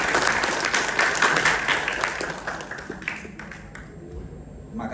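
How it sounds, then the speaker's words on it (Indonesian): An audience at an Indonesian Lemhannas alumni ceremony breaks into dense, sustained applause that stays loud and full, then thins and fades toward the end. "Tepuk tangan untuk semuanya."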